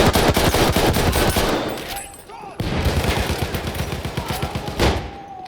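Sustained, loud rapid-fire machine gun bursts in the World War I shooter Battlefield 1 during an online team deathmatch, nearly continuous with a short lull midway and faint voices underneath.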